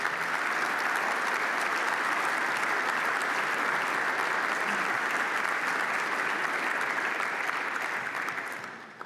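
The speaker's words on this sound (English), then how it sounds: "please join me in a big round of applause for your board of directors" A big round of audience applause for a real estate standards board of directors at a fall conference, broad, sustained clapping from a large crowd that holds steady before fading at the very end.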